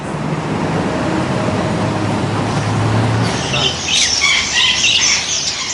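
At a bird merchant's shop in Misrata, Libya, a group of birds sets up bursts of shrill squawks and chatter over a steady background rumble of street traffic, growing louder and busier toward the end.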